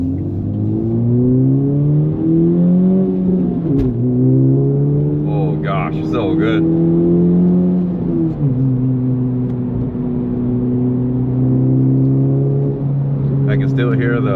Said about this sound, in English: I can hear the roar of the exhaust.